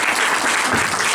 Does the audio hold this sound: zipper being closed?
no